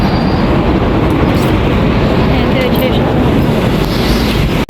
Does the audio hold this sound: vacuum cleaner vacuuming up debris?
no